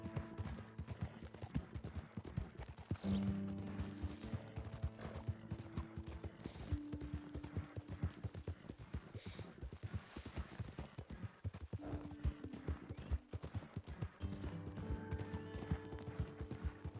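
Horse hooves clip-clop at a steady riding pace in Red Dead Redemption 2, a continuous rhythmic patter under ambient game music and occasional tonal drones.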